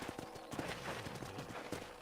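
Horse hooves clip-clop steadily on the ground in the video game Red Dead Redemption, a close, continuous trotting rhythm with a faint whinny-like texture and no speech over it.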